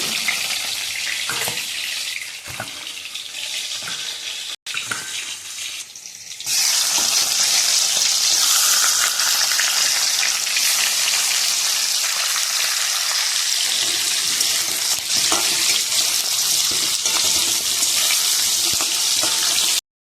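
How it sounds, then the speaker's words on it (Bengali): Pointed gourd (potol) frying in a pan: a quieter hiss at first, then a loud, steady sizzle with occasional scraping and clinks from stirring. "পটলটা একটু ভেজে নেব"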